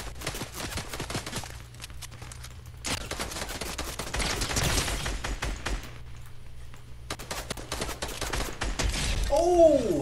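Fortnite match with rapid gunfire in clattering bursts, moderately loud over a steady game background, ending with a rising electronic chime as a headshot lands.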